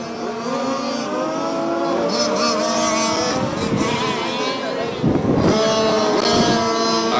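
Race cars at a live racetrack coming around the carousel turn, several loud engines droning and shifting pitch as they pass close by, a continuous roar with rising and falling revs, and a voice faintly talking underneath.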